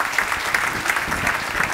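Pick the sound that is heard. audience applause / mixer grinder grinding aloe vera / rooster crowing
audience applause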